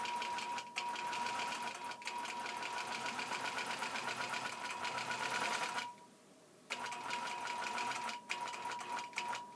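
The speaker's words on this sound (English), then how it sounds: "I would stitch back up to the top, first of all. That way, that batting is trapped in there good." A sewing machine runs steadily, stitching through quilt batting with a fast, even mechanical whir, pausing briefly once before starting again at the same pace.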